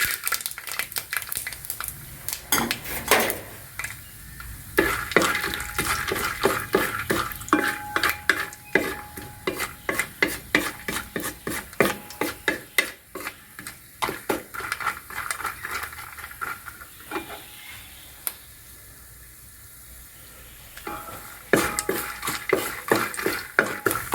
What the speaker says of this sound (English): Now once the mustard starts bursting, next we will add this groundnut.